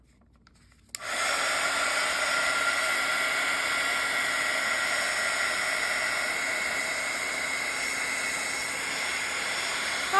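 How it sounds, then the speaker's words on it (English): A hair dryer blows on paint splatters on a Bible journal page, switching on after a second of quiet and holding a steady, close, airy whoosh with a faint tonal hum. "let's finish drying these little splatters here"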